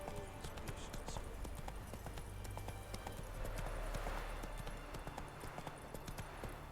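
Hooves of Roach the horse clip-clopping in Witcher 3, a brisk steady beat of hoof strikes on hard ground, close and continuous, with faint background sounds of the game.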